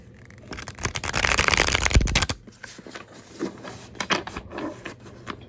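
A tarot card deck is riffle-shuffled by hand: a dense, close burst of crisp card flutter lasts about two seconds, followed by lighter, scattered taps and flicks as the cards settle.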